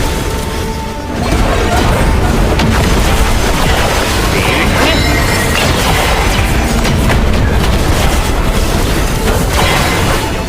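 Artillery cannon barrage in the Duna Abyss video game, a loud, unbroken wall of booms, crashes and heavy impacts that swells after the first second and holds at full intensity throughout.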